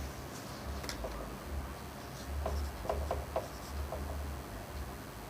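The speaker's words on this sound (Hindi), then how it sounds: "यानी इसको एक बार नीचे लिख लेते हैं थोड़ा सा" Chalk or pen scratching out a maths expression on a board during a lesson on radicals, with soft irregular strokes and taps over a steady low background hum.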